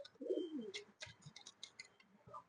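Pigeons coo in a loft, a Coimbatore (Tamil Nadu) breed among them, with one low, warbling coo up close at the start, then softer coos and light chirps and rustles scattered through the rest.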